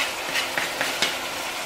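Biryani with green peppers is stirred in a pot, a few soft scraping strokes over a constant faint hiss, no voices.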